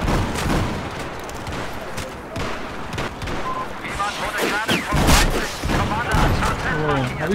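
Battlefield 4 gunfire: rapid, loud bursts of shots and booming impacts crowd the whole stretch, with someone talking over the firing.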